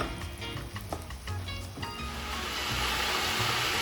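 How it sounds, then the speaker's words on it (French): Chicken being deep-fried in hot oil, a steady bright sizzle that swells louder and more continuous after a few seconds, with faint clinks at the start. "Et maintenant, on passe à la friture."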